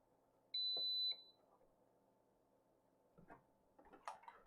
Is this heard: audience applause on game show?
no